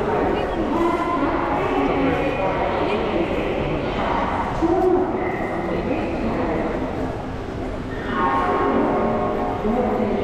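A train heard by travellers in Hyderabad in the early morning, a continuous rumbling rolling noise with clanks and a passing tonal swell, people talking over it throughout.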